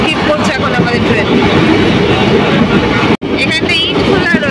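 Malda Town Intercity Express running through Kalinagar station without stopping, a loud steady roar of wheels and carriages with a brief sharp dropout near the end.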